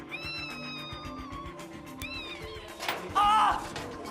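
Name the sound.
cat meowing, hiding in a vent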